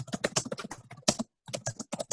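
Rapid keystrokes on a computer keyboard, a dense clattering run with one brief pause, close and fairly loud with no voices over it.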